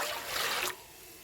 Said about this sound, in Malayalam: അപ്പോൾ കുറച്ചുകൂടെ വെള്ളം വീത്തി